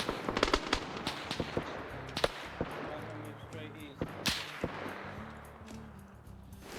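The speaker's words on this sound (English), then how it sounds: "It somehow went all the way up there and air bursted over the tents." In a military video game, gunfire and explosive pops crack around a grenade air burst over tents, with sharp irregular reports and a louder blast midway, fairly distant, under a speaking voice.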